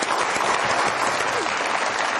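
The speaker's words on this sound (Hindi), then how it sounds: "बहुत सारी तालियां" A studio audience at a TV comedy talk show gives steady, full applause, loud and continuous from start to finish, with no talking over it.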